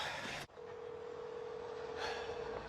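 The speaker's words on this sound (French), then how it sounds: "J'appelle Katrina." Touch-tone telephone keypad beeps sound as someone places a call, with short bright tones at the start and end and a low steady line tone between them, fairly quiet and close.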